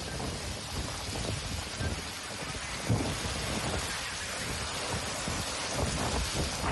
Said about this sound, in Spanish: Como si el cielo hubiera abierto de golpe sus compuertas. Así llovía en la región del Biobío la noche de este lunes